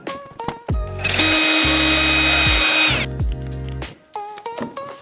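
Cordless power drill fitted with a drill bit during a kitchen tiling renovation, giving a loud, near whirring burst that holds for about two seconds between short stop-start triggers.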